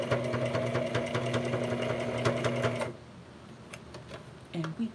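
Sewing machine stitching a crazy quilt coaster, a steady close mechanical whir of rapid needle strokes that stops abruptly partway through, leaving quieter handling noises and faint background sound.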